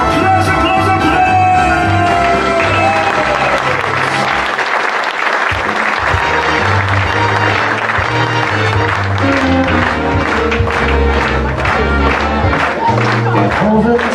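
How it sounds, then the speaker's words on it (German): An audience claps loudly and continuously as a singer comes onto a stage, with some crowd noise and music running under the applause. "Applaus, Applaus, Applaus!"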